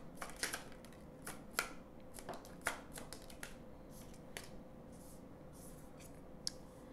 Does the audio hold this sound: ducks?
no